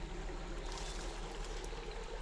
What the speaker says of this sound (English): You can hear the water running.